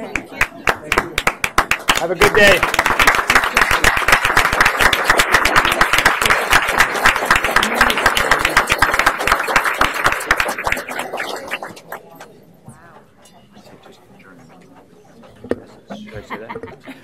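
Audience at a school board regular meeting claps in a long burst of sustained applause with some chuckles, then the clapping stops abruptly and a few voices talk quietly.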